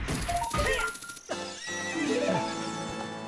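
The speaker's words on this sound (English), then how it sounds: "Climb on the horsey, please." A horse neighs loudly in the video game The Legend of Zelda: Ocarina of Time on the N64. A long whinny sounds close and alone, joined by a second whinny and hoof clip-clop, with no talk.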